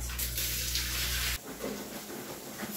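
A pressure washer cleaning rugs with soapy water: a loud, steady motor hum and water hiss that cut off abruptly partway through, leaving a softer, uneven splashing wash sound.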